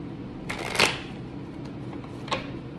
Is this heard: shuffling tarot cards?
yes